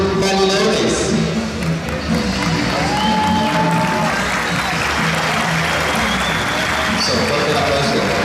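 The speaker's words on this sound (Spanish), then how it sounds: "Soporte el aplauso." A crowd at an opening ceremony for a youth volleyball circuit applauds a club, giving steady, loud applause with some cheering, while an announcer's voice carries over the noise throughout.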